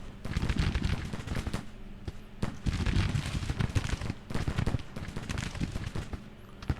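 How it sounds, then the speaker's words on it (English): Dense musket and rifle fire crackles through a Civil War battle in Grand Tactician, many overlapping shots forming a continuous rattling fusillade with occasional louder cracks. "this is a gunfight if there ever was one"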